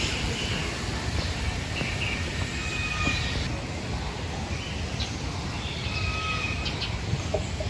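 Birds call at Avilon Zoo in Rodriguez, Rizal. Scattered short chirps and a few caws come from nearby, over a steady low outdoor rumble.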